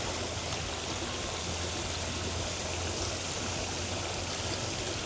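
Liquid copper fungicide pours from a 2-gallon jug into the crown of a freeze-damaged palm tree, a continuous, even splashing rush that stays level and fairly quiet for several seconds with no voices.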